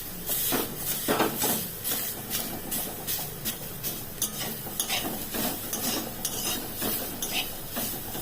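Jackfruit frying in oil in a pan, a steady sizzle and hiss with repeated scraping and clinking of a utensil stirring the pieces, close and alone.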